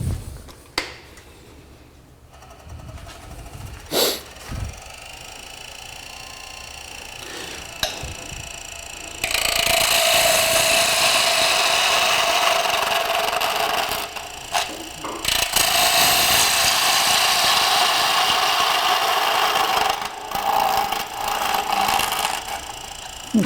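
Skew chisel taking a peel cut on a spinning wood lathe, shaving a spindle chuck blank: bursts of hissing, scraping cutting that start and stop, with a longer sustained stretch of peeling noise in the middle.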